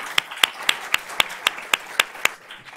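Audience applause at a board of trustees meeting, heard as about ten crisp, evenly spaced claps in a steady rhythm from a single nearby pair of hands, fading out at the end.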